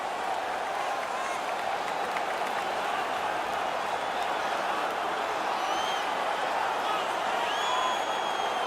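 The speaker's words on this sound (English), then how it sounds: "The home crowd is ecstatic. They're making all kinds of noise." A large arena crowd at an ice hockey game in the video game NHL 19 roars and cheers continuously, a dense wash of noise with scattered whistles rising over it.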